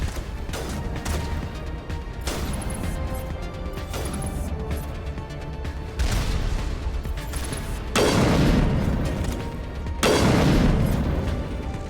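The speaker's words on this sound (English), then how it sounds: "Missile incoming." Heavy missile explosions in Mass Effect, a series of loud booming blasts over constant combat noise, the biggest impacts landing near the end.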